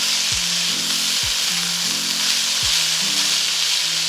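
Mixed fried rice with green capsicum being stirred in a hot pan: loud continuous sizzling with repeated scraping strokes of the spatula, about every second, close and with no talking.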